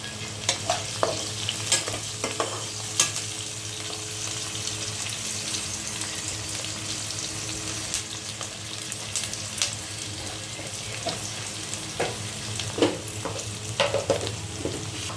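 Amaranth leaves fry in a pan with turmeric and salt, giving a steady close sizzle. A spoon scrapes and clinks through them in irregular taps, and there is no speech.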